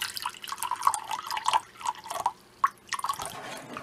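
Distilled water poured into a container in small, uneven splashes and drips, close and fairly quiet, with brief pauses between trickles.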